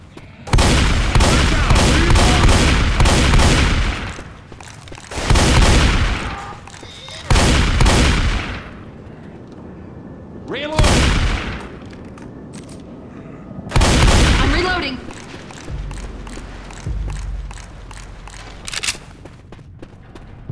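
Gunfire in Left 4 Dead 2 as players shoot at a barricade: several loud, dense bursts of rapid shots separated by quieter gaps, with fainter in-game noise between them.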